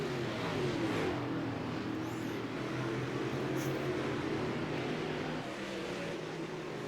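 Super Late Model race cars circle a short oval during a ten-lap heat race, a steady, far-off engine drone that carries on without a break for the whole stretch.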